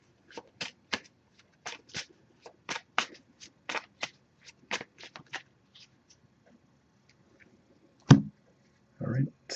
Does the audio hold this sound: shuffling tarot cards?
yes